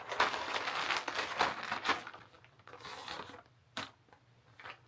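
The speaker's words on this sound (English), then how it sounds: "This is where the Ziploc bag comes in handy." Ziploc plastic bag crinkling and rustling while being sealed, a run of close, irregular crackly bursts that thin out into a few sharp crinkles, with no talking.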